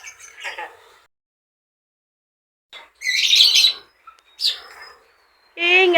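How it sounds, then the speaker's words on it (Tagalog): Many birds chirp noisily in bright, shrill bursts that come and go, with a quiet stretch between the calls and a loud squawking flurry toward the end. "Ang ingay ng mga ibon o."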